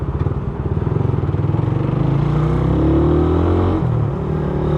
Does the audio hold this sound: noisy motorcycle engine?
yes